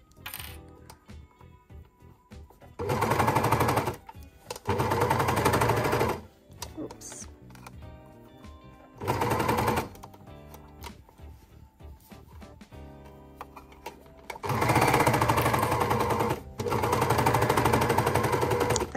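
An overlocker stitches a Billie sweatshirt at home, fast rattling bursts of the machine running in several separate stretches, loud and close, with quiet handling of fabric between the runs.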